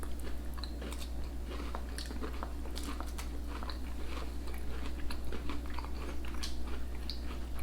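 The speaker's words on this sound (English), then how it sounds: "Getting that nice flavor of the strong cheddar plus a little pickle." Someone eating crunchy oatcakes topped with strong cheddar and pickle, with close, steady biting and chewing crunches throughout over a constant low hum and no speech.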